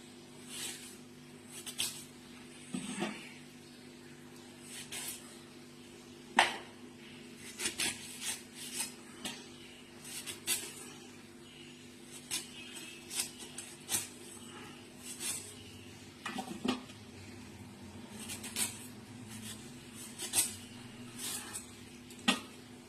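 Firm unripe guavas cut with a knife on a plate, giving scattered faint clicks, scrapes and taps of blade and dish in a quiet room with no talking.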